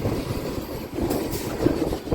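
A MEMU passenger train rumbles along the tracks on the run from Machilipatnam toward Vijayawada, a steady close rolling sound with faint clickety-clack from on board.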